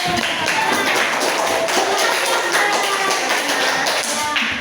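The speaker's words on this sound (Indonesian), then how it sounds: "Ya, tepuk tangan dulu" Classroom clapping, a rapid dense patter of many hands, steady and close throughout.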